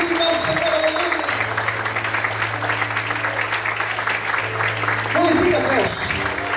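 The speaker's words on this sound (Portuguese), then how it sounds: "Quantos podem aplaudir o Senhor nessa noite?" Applause from a church congregation rises under a steady low hum, with a preacher speaking over it throughout.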